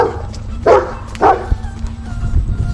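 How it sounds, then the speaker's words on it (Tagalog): A St. Bernard barks angrily, two deep, loud gruff woofs close by, followed by a softer thump and low background noise. "May aso, galit."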